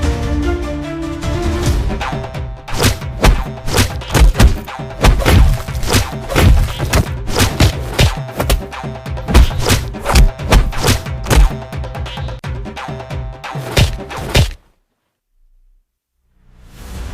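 Men beating someone up: a rapid, loud barrage of heavy thumps and sharp smacking blows, tightly packed for about fourteen seconds before cutting off abruptly into near silence.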